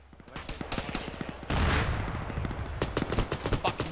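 Rapid gunfire rattles through a military video game firefight, dense bursts of close shots running back to back, then a heavier blast followed by sharp scattered rounds.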